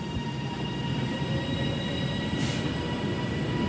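A departing Avanti West Coast electric train, unit 390141, pulls out of Manchester Piccadilly station with a steady, loud rail rumble and rolling wagon noise that fills the platform throughout, with no talking.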